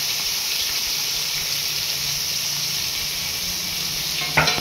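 Onion and chili hit oil already holding fried fish for a sea crab dish, giving a strong steady sizzle up close, with a brief utensil knock near the end and no voices.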